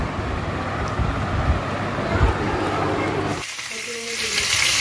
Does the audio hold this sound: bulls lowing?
no